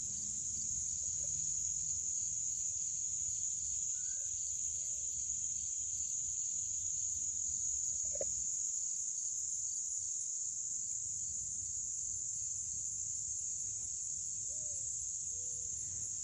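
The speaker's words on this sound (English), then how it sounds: "Still lots of insects going." Crickets trill in a garden in a constant high, even drone, with faint occasional bird chirps scattered in the background.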